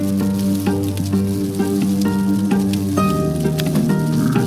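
Fire crackles and sizzles steadily in the video game Postal 3, a continuous frying-like hiss over a sustained droning game music bed, fairly loud throughout with no talking.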